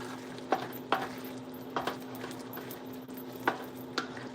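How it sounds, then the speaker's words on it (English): Clams and mussels cooking in a pan with vegetables, stirred with a utensil: a constant sizzle broken by sharp scraping clacks of shells and spoon at irregular intervals. "so let's give this a nice little stir"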